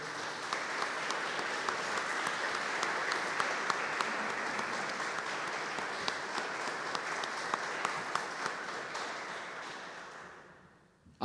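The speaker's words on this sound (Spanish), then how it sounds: "quiero en principio recibirlos con un aplauso a todos ellos." A room full of people applauds the guests of a gymnastics and masonry event, a sustained wash of clapping that holds steady for around ten seconds before tapering off at the end.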